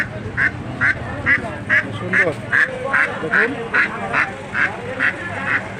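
Ducks quack at a crowded village market, a close, loud run of about a dozen evenly spaced quacks under people talking.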